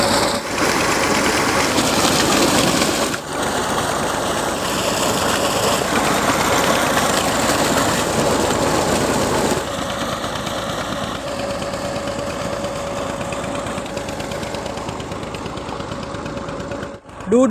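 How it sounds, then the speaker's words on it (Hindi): Tractor engine driving a tubewell pump in rural Pakistani farmland, a loud steady mechanical drone with continuous rattle that holds throughout, dipping briefly near the start and settling slightly quieter partway through, with a faint tonal hum emerging later. "ट्रैक्टर के जरिए इतना ज़्यादा पानी निकलता है टूअल का।"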